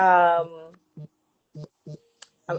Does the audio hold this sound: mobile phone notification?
yes